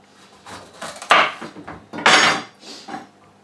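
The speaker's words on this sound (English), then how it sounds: "I just thought I'd show you how I cut my butternut squash" Butternut squash being cut with a kitchen knife, two firm chopping thuds, one near 1 s and another louder around 2 s, plus lighter taps and knife scrapes in between; no talking.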